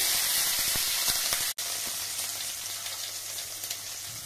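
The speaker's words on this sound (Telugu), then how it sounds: "టమాటా చారు చేస్తున్నాను, తాలింపు వేసుకుంటున్నాను." Tempering for Telugu tomato rasam sizzles steadily in hot oil, a dense continuous crackle with small spits, briefly cutting out for a split second near the middle before resuming.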